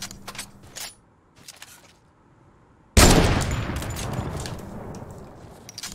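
Video game gunfire: a few faint shots and clicks, then a sudden loud burst of rapid fire that erupts close and keeps roaring in sustained volleys until the end.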